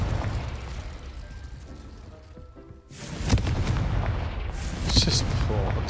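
Confringo spell cast in Hogwarts Legacy, with a quiet lull followed by a sudden burst of booming, crackling explosive blasts and a second sharp hit, fairly loud.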